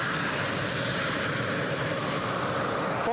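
A United Airlines aircraft departs, its jet engines giving a steady broad distant roar that holds even and unbroken for a few seconds, with no voices.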